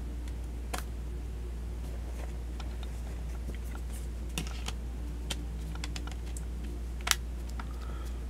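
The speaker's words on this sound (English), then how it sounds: "Let's go ahead and pop in our battery like so." A battery pops into a Huawei W1 Windows phone with a few small, sharp plastic clicks and taps, close and quiet, with no one talking.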